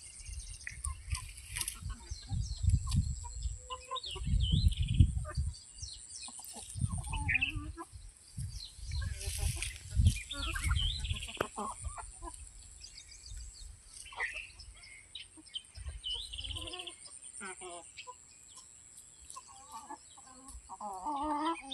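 Free-range country chickens on a village poultry farm, clucking and calling repeatedly in bursts, with a rooster-like call among them and some farmyard background noise; no talk.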